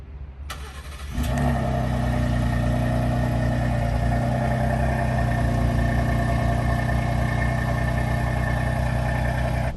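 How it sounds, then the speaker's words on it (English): A Ford F-150 Tremor pickup engine cranks briefly on a cold start and catches, then settles into a steady, loud idle that rumbles on without stopping. "Let's get a cold start on the Tremor."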